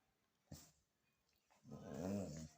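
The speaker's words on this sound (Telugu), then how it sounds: "ఏదో డాగ్ వచ్చింది మన ఇంటికి" A dog at a house makes a faint, soft growl near the start, then a longer low, whining growl toward the end, heard alone and fairly quiet.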